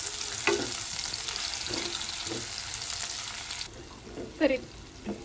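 Tomatoes sizzle and cook with fried onions in a pan, a steady close frying hiss with occasional stirring scrapes that drops quieter partway through.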